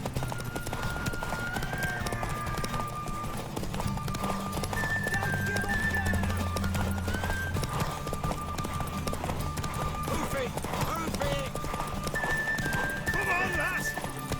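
Horse hooves clip-clop at a steady gallop and a horse neighs in the game The Witcher 3: Wild Hunt, mixed with game music and people talking over it.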